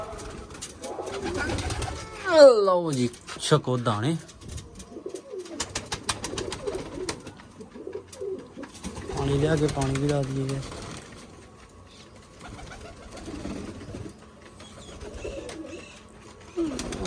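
Pet pigeons perched on a rooftop loft coo as they are fed grain and given water, the soft repeated coos mixing with someone speaking nearby and brief pauses.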